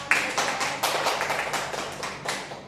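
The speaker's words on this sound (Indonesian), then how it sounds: "Kita kasih tepuk tangan untuk" Classmates clap for a student presenter in a school micro-teaching session, a soft scattered patter of hand claps from a small group that fades gradually.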